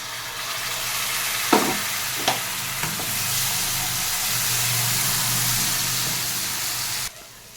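A spice paste of tomato, ginger and garlic fries in a pan, sizzling steadily and loudly up close, punctuated by a few sharp scrapes of stirring before it cuts off abruptly.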